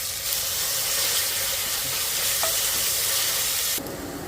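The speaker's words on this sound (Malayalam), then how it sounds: "സവാള ഇടാം സവാള നന്നായിട്ടൊന്ന് വഴറ്റുക" Sliced onions sautéing in hot spiced oil in a pan, a steady, close, loud sizzle with a few faint scrapes, the hiss dropping in level near the end.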